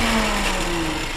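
Engine of a 1981 Toyota Hilux N30 pickup running just after starting, a steady mid-pitched hum with a faint tonal whine, heard alone for about a second.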